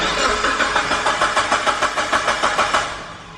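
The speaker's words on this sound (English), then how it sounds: "like it just keeps on cranking" A Mitsubishi Evo engine cranks without catching: a steady, rhythmic whirring starter churn with regular pulses, close and fairly loud, fading out at the end.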